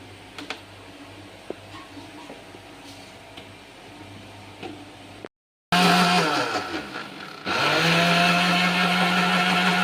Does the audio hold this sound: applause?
no